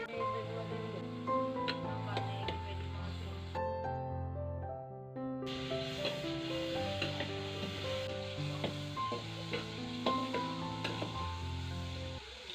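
Oil heats and sizzles in a cooking pot in a home kitchen, a steady frying hiss running throughout, apparently under background music.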